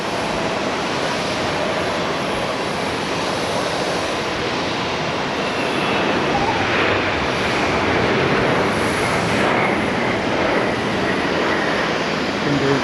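A jet airliner lands at Haneda Airport, its steady broadband engine roar holding loud and close for the whole stretch, swelling slightly near the middle before easing off.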